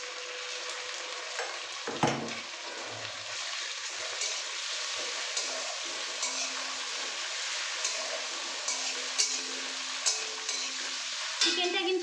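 Chicken pieces sizzle and fry in a pan for an egg-chicken tadka, a constant close crackle with a sharp clatter of stirring near the start and occasional scrapes of the utensil.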